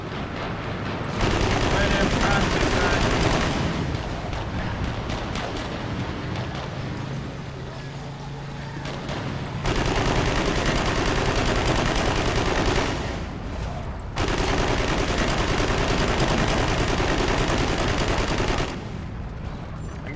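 A zap gun fires in Warhammer 40k: Eternal Crusade in long sustained bursts, a loud buzzing crackle that cuts off and restarts, with gunfire and talk underneath.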